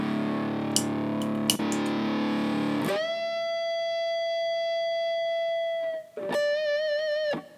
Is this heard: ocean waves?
no